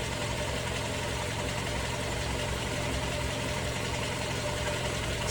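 A 2019 Toyota RAV4 engine runs at a steady idle, a constant close hum and rumble with no change in pace throughout.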